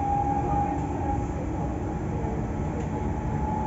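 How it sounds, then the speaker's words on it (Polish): A modern passenger train rolls along in Poland, heard from inside the carriage as continuous rumbling wheel and track noise with a faint steady high tone. "Pociąg jest super nowoczesny"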